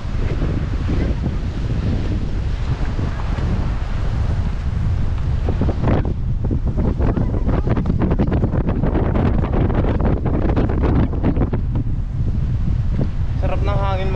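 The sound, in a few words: wind at the beach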